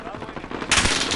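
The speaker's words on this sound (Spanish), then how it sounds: "¡Están disparando!" Gunfire in the video game Warzone: a rapid rattling burst of automatic shots, fairly close and loud, swelling sharply partway through into a heavier volley.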